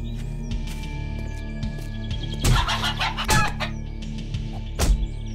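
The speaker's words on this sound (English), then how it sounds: "Oh, look, a chicken." Chicken clucking in a survival video game, several short clucks and squawks at moderate distance over a steady low ambient hum, with no talking.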